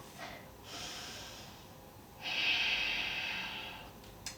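Deep, audible breaths taken while holding a yoga pose, with two drawn-out exhales or inhales in a quiet room and no talking.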